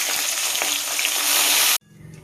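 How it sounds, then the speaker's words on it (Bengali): Fish frying in hot mustard oil in a pan, giving a loud, steady hiss with small popping crackles, then cutting off abruptly to near-quiet. "এই মাছগুলো ভাজা হয়ে গেছে আর এই মাছগুলো ভেজে নিচ্ছি।"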